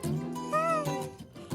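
A cat meows in a short drawn-out call, close and fairly clear, with a faint hum of background noise underneath.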